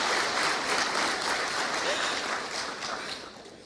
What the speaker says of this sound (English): That deserves a round of applause, right?